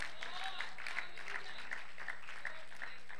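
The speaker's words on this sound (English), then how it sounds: "Somebody clap both hands together and give him praise." Church congregation clapping hands in praise, a soft steady patter of many hands with faint voices mixed in, heard from some distance.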